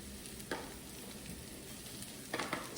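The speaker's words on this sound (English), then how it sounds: "we're gonna add our mushrooms, okay? And what you wanna do is cook those until they're a nice brown color as well." Shiitake mushrooms fry in a pan, giving a faint, steady sizzle with a couple of brief clinks or stirs partway through.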